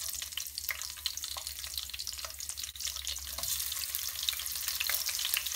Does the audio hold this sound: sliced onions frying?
yes